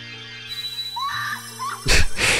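A short high scream in the Zelda game Majora's Mask, rising from quiet game sounds and ending in a loud burst of noise, with little else around it.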